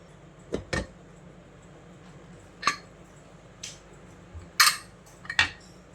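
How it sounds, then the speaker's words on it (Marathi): A cooled pressure cooker that has just cooked rice is opened, giving several sharp metallic clinks and knocks of the lid against the pot, spread irregularly with quiet gaps between them. "आपला कुकर थंड झालेला आहे आता आपण ओपन करून पाहूया"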